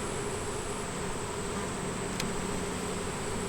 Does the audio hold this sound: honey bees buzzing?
yes